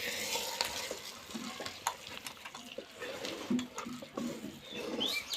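Hot caramelised sugar poured onto kheer payesh gives a faint, close hiss with soft irregular clinks and scrapes from a pan, fairly quiet and with no speech.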